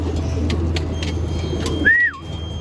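Pigeons near a loft give a low, steady cooing murmur, then a single clear whistle-like call rises and falls near the end, with no voices.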